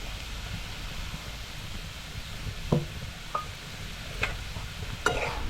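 Horse gram flour roasts in a pan with a faint, soft, continuous sizzle, and a few scattered taps and scrapes of a stirring spoon sound against the pan; no voices.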